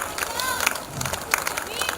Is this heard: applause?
yes